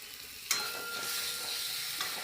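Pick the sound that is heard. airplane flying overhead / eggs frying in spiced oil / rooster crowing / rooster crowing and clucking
eggs frying in spiced oil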